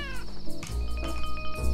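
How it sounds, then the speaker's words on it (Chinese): A cat meows in the Dave the Diver video game, with a few short mewing calls over a steady game soundtrack. The calls are mid-loud and come one after another across the moment. "猫咪任务吗？ 毛毛又要跑出去了"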